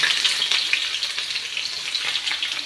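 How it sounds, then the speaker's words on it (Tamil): A handful of thinly sliced onions crackle and sizzle in hot oil for ghee rice, a dense continuous frying hiss with small pops and stirring, nobody speaking. "இந்த மாதிரி ஒரு கையளவுக்கு வெங்காயம் நல்லா மெல்லிஸாக கட் பண்ணியிருக்கணும் இதை வந்து போட்டு நல்லா பொறிச்சு எடுத்துக்கலாம்"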